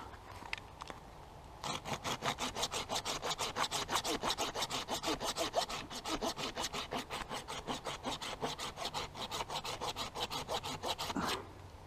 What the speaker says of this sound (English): my saw out, and cut that off